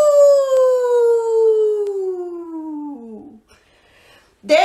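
A single long, loud human howl imitating a dog, starting high and sliding steadily downward for about three seconds, then a brief breathy pause and a sharp new vocal burst at the end.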